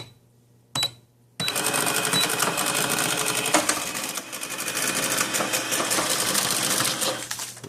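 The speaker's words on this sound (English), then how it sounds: "hope y'all enjoyed the cash registers" A mechanical cash register is operated, a burst of clacking keys and whirring gears after a quiet start, then a steady loud rattling mechanical churn with sharp clicks and a bell-like ding, running to the end; a brief spoken line comes early.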